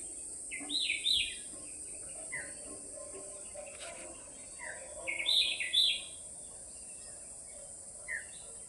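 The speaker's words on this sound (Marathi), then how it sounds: "पक्ष्यांचा आवाज" Birds calling among teak trees in a forest, several bright chirping bursts at a moderate distance, clustered in two groups over a steady insect hum and quiet background.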